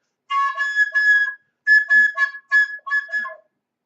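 A roller derby referee's jam-ending whistle sounds in short groups of sharp, slightly uneven blasts with sagging pitch, like a tired referee blowing after long skating, close and alone.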